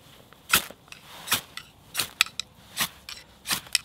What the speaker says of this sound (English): it just gives you the best opportunity to be able to scrape sparks from it